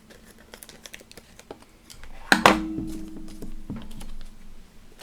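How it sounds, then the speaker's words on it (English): Scissors cut open plastic packaging for a 1:8 scale Ford Falcon XB GT model kit, with a few light taps and rustles before a sharp, close crinkling snip and rattle that settles into softer handling noise. "I'm going to have to open this with some scissors."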